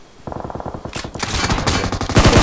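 Rapid automatic gunfire in PUBG Mobile, a dense bursting stream of shots that grows louder and busier, with overlapping weapons firing close by.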